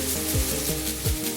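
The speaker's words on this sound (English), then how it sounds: "I've got about 5 cloves of garlic. I'm going to grate" About five garlic cloves grated for a chicken curry: a steady, soft raspy scraping against a grater, continuous and close, with a faint rhythmic back-and-forth texture and no speech.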